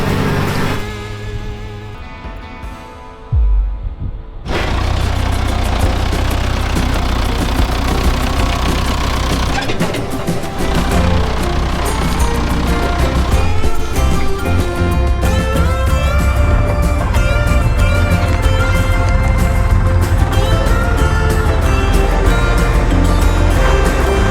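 A New Holland T7 HD tractor engine labors under heavy load during harvest and plowing work, a loud continuous droning roar with steady mechanical vibration, briefly dropping before surging back strongly and holding its strain as the wheels slip.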